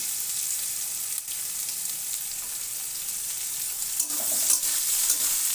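Onions sautéing in a pan with asafoetida for palak chana give a steady, fairly loud sizzle throughout, joined by light scraping and clinking of stirring and a slightly stronger burst of frying toward the end.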